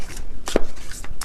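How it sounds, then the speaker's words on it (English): A deck of oracle cards is shuffled by hand, giving a couple of quick papery riffles and soft slaps, close and fairly loud, over a brief moment with no speech. "And I just shuffled my deck here, which is the Beyond Mind Oracle"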